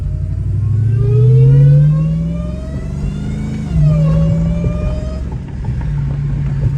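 A supercharged 850 wheel-horsepower Chrysler 300 with Hellcat power, driven from inside the car: loud engine revs climbing through gears with a whining pitch, a brief dip at a shift, then a steady cruising drone.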